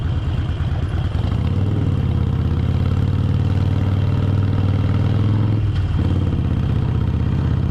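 A Harley-Davidson 48 motorcycle engine runs steadily on a ride through Jogja, a loud, continuous low rumble with a brief dip near the end.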